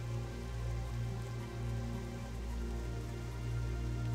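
Steady rain falling in a gloomy wetland zone of the game World of Warcraft Classic, a soft continuous patter with a low ambient hum underneath, even and unbroken, no talking.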